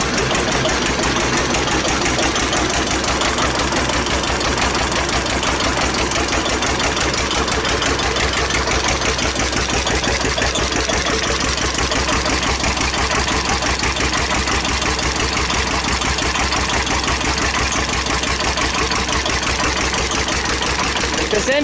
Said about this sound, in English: This engine really will never have a lot of oil pressure because it's an open system.